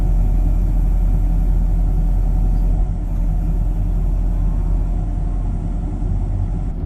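Steady diesel engine of a John Deere 50G mini excavator running continuously at a constant low rumble, close and loud, with no talking, during pond repair work.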